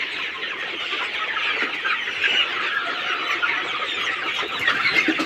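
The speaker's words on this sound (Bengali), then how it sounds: "মুরগিগুলো বিক্রি উপযোগী হয়ে গিয়েছে।" A flock of market-ready Sonali super hybrid chickens clucks in a dense, continuous chorus of overlapping calls, loud and close, with no talk.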